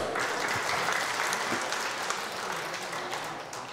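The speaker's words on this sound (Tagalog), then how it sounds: "Isa po hong palakpak para kay Leah" Church congregation applauding steadily for nearly four seconds, a dense, even wash of many hands clapping that tapers slightly toward the end, with no speech over it.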